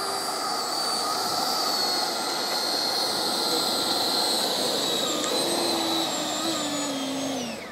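Flex Innovations F-100D Super Sabre RC jet flying overhead, a steady loud whine and rushing roar lasting several seconds, with pitch slowly shifting as it passes, faint voices beneath.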